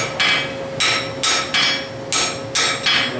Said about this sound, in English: I'm going to take on the end of my bar here, a severe right hammer stroke.